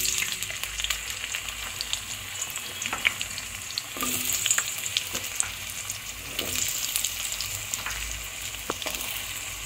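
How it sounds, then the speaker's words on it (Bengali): Potato pieces frying in hot oil with dried red chilies and nigella seeds, a steady close-up sizzle broken by occasional scraping and stirring of the pan. "আলুগুলোকে একটু লাল লাল করে প্রথমে ভেজে নেব।"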